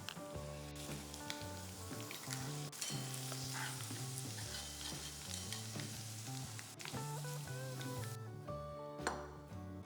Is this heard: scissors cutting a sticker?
no